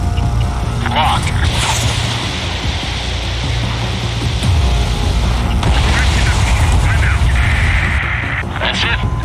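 An enemy bomber is shot down in a flight combat video game, a loud explosion rumbling over dense, continuous engine roar and game noise, with a radio voice speaking over the mix.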